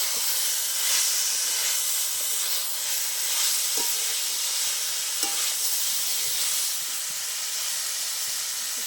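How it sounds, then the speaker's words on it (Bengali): Vegetables with boiled bamboo shoots sautéing with spices in a pan for a vegetarian hill-region dish, a steady close sizzle and hiss with occasional stirring clinks throughout. "এগুলো আর একটু ভালো করে আমি একসাথে কষিয়ে নেবো মশলা দিয়ে"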